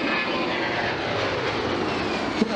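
An airliner such as an Airbus A319 passes overhead, a continuous broad jet roar with a faint descending whine, steady and moderately loud throughout, with no voices.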